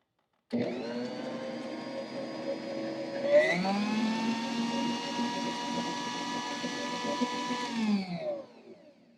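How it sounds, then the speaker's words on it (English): An electric mixer beats butter for coconut cake buttercream, a loud steady motor whir that starts abruptly, rises in pitch midway, then winds down; no talking. "So I'm going to mix up this butter"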